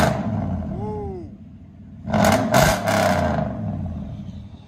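A car with true dual exhaust, 2 1/4-inch pipes running into 5-inch stainless steel tips, idles low, then barks through a few sharp revs before settling into a loud, rumbling idle, alone without talk.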